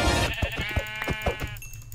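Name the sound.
sheep bleating in the video game Minecraft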